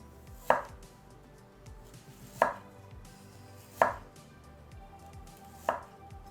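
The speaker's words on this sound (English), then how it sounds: "Slice the ginger into slices about 1 millimeter thin." A knife cuts fresh ginger into thin slices on a board, four sharp, separate chops spaced a second or two apart, close and clear in a quiet kitchen.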